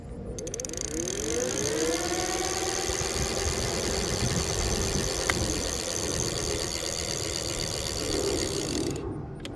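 A 350-watt electric bicycle motor spins up with a steady whirring hum and a rising whine, close and fairly loud, running evenly for several seconds before cutting off, with no talk.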